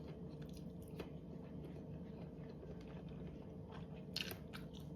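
Close, crunchy bites and chewing, with sharp crisp crunches at intervals over a low steady background, no talking.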